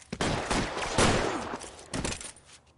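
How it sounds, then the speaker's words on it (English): Gunfire in the crime game L.A. Noire, a rapid burst of shots and fusillade loud and close, with bursts peaking mid-clip and again near the end before fading. "211 and shots fired"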